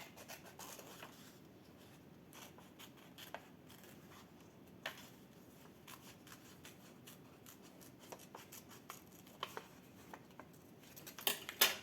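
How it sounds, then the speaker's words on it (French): Scissors cutting paper for a handmade calendar notebook, a run of quiet, close snips and rustles at an irregular pace, growing sharper and louder near the end, with no talking. "donc je vais découper"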